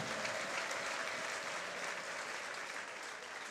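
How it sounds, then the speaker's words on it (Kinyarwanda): Sustained applause from a crowd at a stadium gathering in Muhanga, a dense steady wash of clapping hands that fills the whole stretch without letting up. "Komera Imana amashyi n'ibyo bintu byumva"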